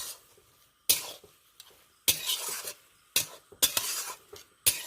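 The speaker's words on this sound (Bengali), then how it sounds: "নারকেলটা দিয়ে দিয়েছি, হালকা করে একটু নেড়ে নিচ্ছি এইভাবে।" Grated coconut stirred in a pan with a spatula: several separate scraping strokes, each a sharp close scrape with a short sizzle, separated by quiet gaps.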